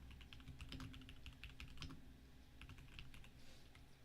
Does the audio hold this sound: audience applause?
no